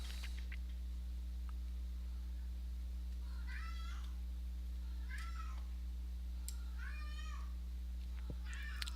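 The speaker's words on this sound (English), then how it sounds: "And if you can hear my cat in the background," A pet cat meows several times in the background, short rising-falling calls spaced a few seconds apart over a steady low hum, with no one talking.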